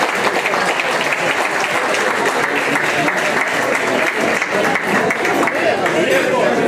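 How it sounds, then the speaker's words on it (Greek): A large audience at a community event in Kandanos claps in a big, sustained ovation, a thick unbroken wash of hands lasting several seconds with faint crowd murmur underneath. "θα ήθελα ένα μεγάλο χειροκρότημα στο συγκεκριμένο άνθρωπο"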